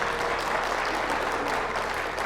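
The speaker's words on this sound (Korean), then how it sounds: "제가 생각했던 것보다 박수 소리가 적게 나와서 다시 한번 부탁드렸습니다" A church congregation applauding during a Sunday worship service, steady dense clapping from many hands filling the room throughout, close and fairly loud.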